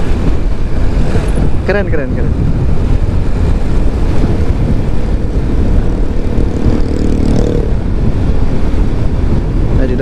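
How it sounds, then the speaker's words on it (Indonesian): Strong wind roars on a hilltop road during a motorcycle tour, a loud continuous rushing buffet that fills the whole stretch, with a brief spoken word near the start. "Dan di sini anginnya kenceng"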